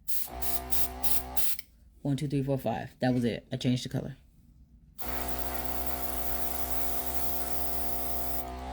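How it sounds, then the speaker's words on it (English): Short hissing bursts of an airbrush spraying One Air acrylic paint come in quick pulses, then a voice talks briefly before a long, steady spray hiss with a motor hum underneath. "Put the top back on. Put this over here. I'm going to spray."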